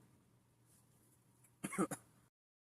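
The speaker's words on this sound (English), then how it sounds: "The cough." A close, sharp cough in two quick bursts breaks a near-silent room.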